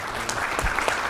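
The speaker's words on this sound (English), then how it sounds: "Give Matt a round of applause." An audience at a university lecture event applauds, steady dense clapping filling the short moment, close and fairly loud.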